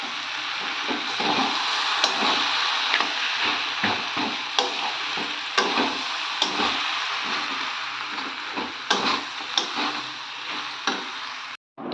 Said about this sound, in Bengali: তো ততক্ষণ কষতে থাকি।